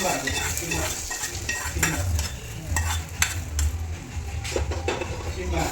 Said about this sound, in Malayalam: കടുക് വറുത്തും നമ്മൾ ചിക്കനിലോട്ട് ഒഴിക്കുക.